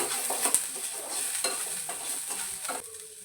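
Coriander leaves frying in a pan for masala buttermilk: a soft, close sizzle with light stirring scrapes and a few sharper clicks from the utensil, and no voices.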